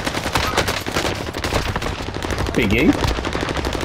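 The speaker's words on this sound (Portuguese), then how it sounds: "Estão atirando de uma casa para outra." Rapid gunfire crackles between houses in Call of Duty: Modern Warfare, a dense, continuous rattle of automatic shots close by, with a brief spoken word over it.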